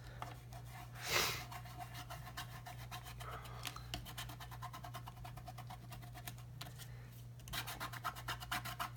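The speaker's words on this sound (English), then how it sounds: "I'm just going to take my finger through and just start to kind of rub that all over the place" A fingertip rubs Distress crayon over a paper craft tag in a quiet, close, continuous dry scratching with fine rhythmic texture, one brief louder scuff early on, and no talking.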